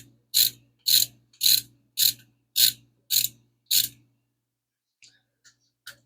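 Seven evenly spaced sharp ratchet clicks as lifter bolts are tightened on a 5.7 Hemi engine, close and loud, followed by a few faint ticks.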